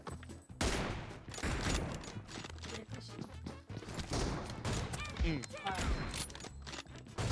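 Gunfire in the mobile battle royale game PUBG Mobile, dense bursts of shots and impacts running loud and continuous throughout, mixed with game sounds and a voice talking over it.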